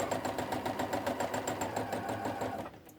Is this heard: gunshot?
no